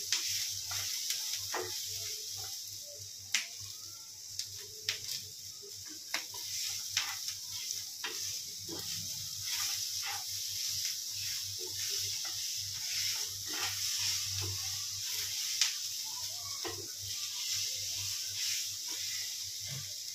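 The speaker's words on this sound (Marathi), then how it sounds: "ते पण थोडंसं असं लूज होण्यापर्यंत आपल्याला गरम करायचं आहे।" Chopped tomatoes and onion cook in a pan, giving a quiet, steady sizzle with occasional scrapes and clicks as a spoon stirs them, without talk.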